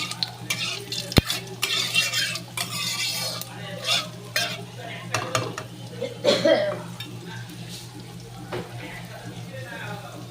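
Whole cumin seeds and torn dried red chillies frying in hot oil in a kadai, a steady sizzle with stirring and clinks of a utensil against the pan, with no talking over it.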